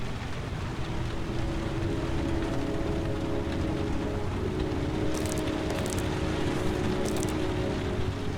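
Steady rain falls throughout in the video game Heavy Rain, a dense hiss that runs unbroken for the whole stretch, with brief bursts of brighter patter near the end.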